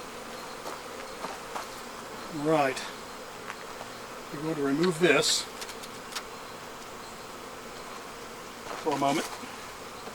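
Honey bees hum softly at a hive during a beekeeping session, with a steady low drone in the background. Someone speaks quietly a few times over the buzzing.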